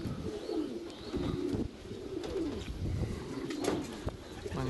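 A young pigeon coos in several soft, throaty phrases amid outdoor rustling and wind noise, moderately close.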